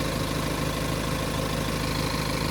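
The diesel engine of a BMW 520d F10 idles close by with a steady, even clatter and low rumble, heard alone.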